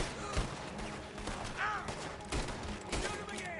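Gunfire during a shootout in Red Dead Redemption 2, several sharp close shots and rapid volleys cracking over a noisy background, with shouting voices mixed in between the bursts.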